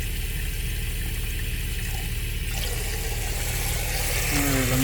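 Water runs steadily from a tap in an RV fitted with a tankless water heater, a constant hiss that shifts in tone partway through as the flow changes, with a brief low tone near the end.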